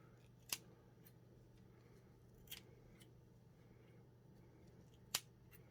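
Three short, crisp snips of scissors cutting thread, spaced a couple of seconds apart, close by, over a quiet steady hum with no talking.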